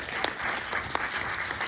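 Audience clapping at a short-film competition screening during the Jeonju International Film Festival 2025, a brief burst of steady applause filling the hall with a faint murmur of voices beneath.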